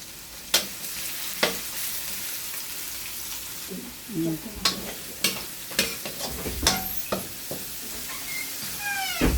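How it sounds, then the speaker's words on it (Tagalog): Garlic and onion hit hot oil in a pan for seafood pancit canton, a continuous sizzling hiss punctuated by sharp clacks and scrapes of a utensil against the pan. "Lagyan na po natin yung bawang. Sunod po ay sibuyas."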